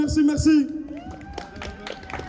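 An audience at a live rap event applauds a rapper with scattered claps, a few whoops and shouts. The clapping rises after a short burst of voices at the start and stays moderate against the crowd noise.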